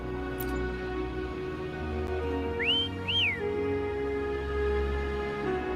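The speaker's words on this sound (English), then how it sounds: "Try whistling. Like this." A two-note rising-and-falling whistle rings out clearly in the video game Wuthering Waves, two bright swooping tones over a steady droning ambient backdrop.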